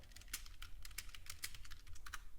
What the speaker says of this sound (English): yes, you do hear typing.